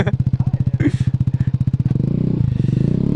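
A small two-stroke scooter engine putters loudly in a rapid, even pulse, then the rhythm quickens and smooths as it revs slightly.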